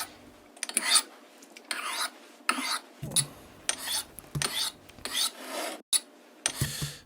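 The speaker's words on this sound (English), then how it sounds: "we go here to the knife sharpening bit" A knife being sharpened in a series of rhythmic rasping strokes, about a dozen close, crisp scrapes separated by short pauses.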